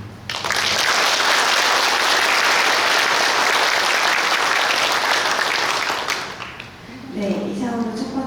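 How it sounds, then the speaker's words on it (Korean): Audience at a Korean Buddhist academic conference applauding after a presentation, loud sustained clapping that fills most of the stretch, dips briefly, then gives way to a voice speaking over the last moments. "큰 박수 부탁드립니다"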